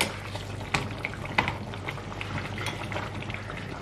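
Water boiling in a pot while cooking green curry with fresh chillies, a steady bubbling hiss with scattered pops and clinks, close and continuous, no talk.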